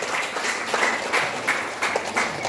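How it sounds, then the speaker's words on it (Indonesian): Seminar audience applause: a steady, moderately loud patter of many hands clapping throughout, with a few sharper individual claps standing out and no clear talk over it. "Tepuk tangan buat one more"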